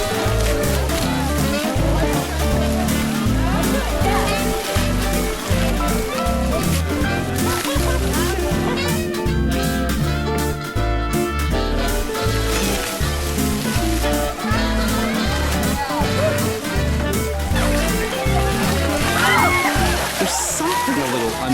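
Elephants splash and wallow in river water at Elephant Nature Park, producing a continuous churning slosh and spatter of water that stays busy and fairly loud throughout, with no clear pauses.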